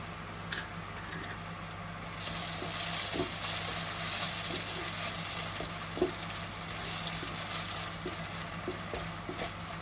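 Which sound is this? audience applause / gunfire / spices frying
spices frying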